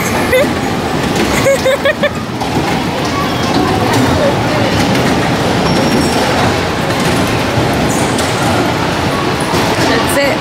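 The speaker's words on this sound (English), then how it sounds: "We are at the mall in the train station for Jacob." Busy train station ambience inside a mall, with a steady low rumble of rail traffic and a crowd murmur, voices chattering throughout.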